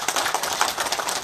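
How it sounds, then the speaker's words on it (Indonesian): Applause from a crowd at a large volunteer declaration rally in Indramayu, a dense continuous patter of many hands clapping at steady moderate loudness with no voices on top. "Tepuk tangan."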